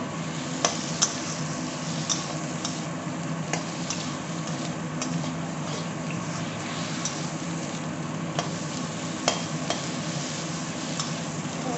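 Bitter gourd fries with spices in a pan for a chachori dish, a continuous sizzle broken by occasional sharp clicks and scrapes of a utensil stirring against the metal, with no talking.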